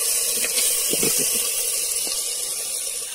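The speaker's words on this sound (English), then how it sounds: "Let the pineapple get sauteed nicely and on slow flame" Pineapple pieces sautéing in a pan over a low flame, giving a steady soft hiss with a few faint clinks, close by and without speech.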